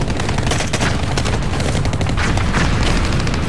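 Enemy machine gun bunker firing in a Baghdad battle, dense loud bursts of automatic gunfire with booming impacts, continuous and close.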